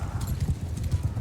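Horse hooves in the Mount and Blade II Bannerlord video game, a quick, rhythmic clip-clop of galloping steps close by with a brief neigh, under faint game ambience.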